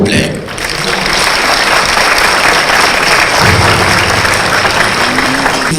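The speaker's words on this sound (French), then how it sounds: "l'honorable Moussa Faki Mahamat, sous vos applaudissements, s'il vous plaît." Sustained, dense applause from a large audience greets a candidate at a debate for the African Union presidency, filling the whole stretch at steady loudness with no pause.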